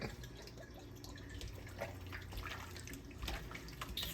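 A little Worcestershire sauce poured in the kitchen for an oven-cooked Carolina BBQ dish gives soft, faint liquid drips and splashes against low background noise, with no talking.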